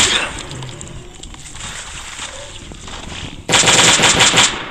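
Gunfire in the survival game Last Day on Earth: Survival, rapid automatic bursts that start moderate and turn much louder and sustained near the end, continuous and close.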